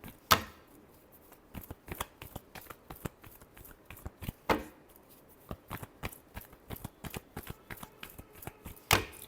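Tarot cards being shuffled by hand, soft repeated riffling and tapping clicks in an irregular rhythm with a few sharper snaps, quiet and close.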